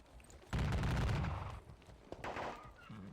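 In a Napoleonic-era battle game, a sudden volley of musket fire erupts and rolls on as a dense crackling burst for about a second, then thins into scattered shots with a second smaller burst.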